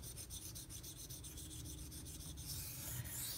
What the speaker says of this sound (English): just sharpening like I'm doing right now